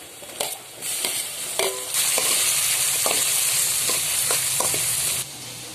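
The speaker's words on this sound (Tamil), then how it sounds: "தக்காளி நல்லா வதங்கணும்" Tomatoes sautéing in a pan: a few clinks of a spoon and stirring scrapes, then a loud, continuous close-up sizzle that holds for several seconds before cutting off.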